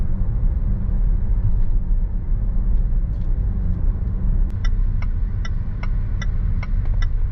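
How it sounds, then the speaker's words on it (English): Steady ticking of a turn signal, about two clicks per second, over a low engine and road rumble inside a 2020 Land Rover Range Rover Sport HSE. "Blinker's kind of loud."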